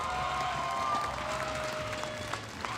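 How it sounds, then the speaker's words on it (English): Applause from an esports arena crowd for the AP Bren team at the M5 World Championship knockout stage, a steady wash of clapping and crowd noise with a faint tone running through it. "give AP Bren a big round of applause"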